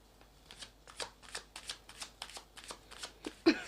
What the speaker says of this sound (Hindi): पहले हम सारे कार्ड्स निकाल लेते हैं